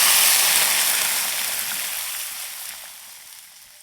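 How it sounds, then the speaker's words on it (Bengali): Water poured into a pan of lightly fried taro pieces makes a loud hissing sizzle that starts strong and slowly dies down over a few seconds, with no voices over it. "কচুটা হালকা ভেজে নিয়েছি, এবার জল দিয়ে দেব।"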